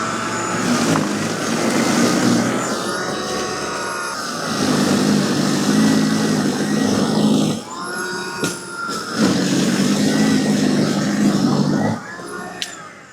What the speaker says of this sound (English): it sounds like when it gets loaded, the motor actually spins up a little bit more